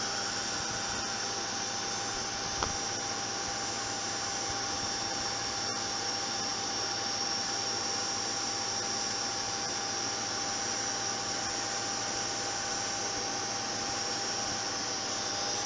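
An old Zanussi Electrolux ZWF 1432 washing machine, a 6-kilogram model, spins up toward 1400 RPM with a steady, loud, broadband whirring roar and faint tonal hum, continuous throughout with one brief knock.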